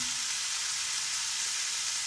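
About a pound of finely chopped carrot fries in a pan over high heat, giving a steady, bright sizzle and hiss with no pauses and no talking.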